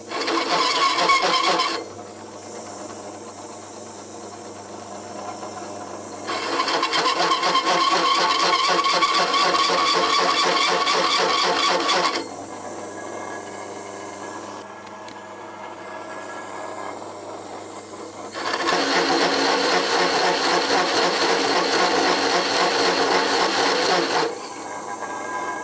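A drill press motor hums while a 51mm hole cutter grinds through material in two long loud bursts, separated by quieter running in between.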